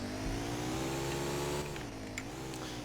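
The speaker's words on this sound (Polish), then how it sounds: "mam niestandardowe dźwięki samochodów i one są dosyć głośne" A custom car engine sound in MTA roleplay game revs steadily with a rising, harmonic drone, loud and continuous, then eases slightly near the end, sounding like a synthetic game engine.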